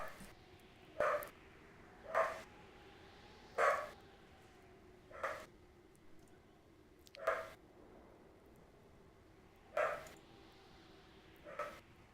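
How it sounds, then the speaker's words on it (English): A dog barks in the video game Myth: The Fallen Lords, single muffled barks repeating at fairly regular intervals of one to two seconds over a faint steady background hum. "That sounds like a dog that was ass asleep and then heard something outside."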